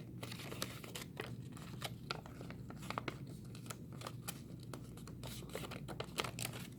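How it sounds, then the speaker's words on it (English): A sheet of paper is handled and folded along a solid line, with faint, scattered crinkles and sharp little creasing clicks in a quiet room. "I take this one and fold it on the solid line."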